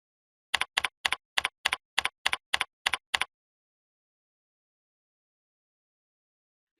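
About ten evenly spaced, crisp clicks of keys being struck on a computer keyboard while editing an MS Access database, close and clear, then long silence before one final tap.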